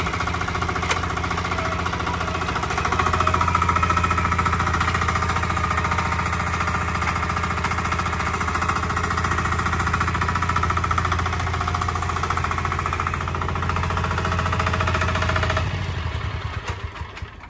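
A steady, loud, chugging engine note from an Agroray hybrid single-axle tractor running in a fast gear, with a rattling, knocking texture that holds constant and then winds down near the end.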